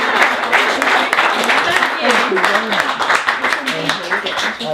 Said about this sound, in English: Big round of applause to Eric.